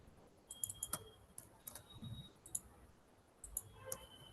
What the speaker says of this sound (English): And type the variable name here.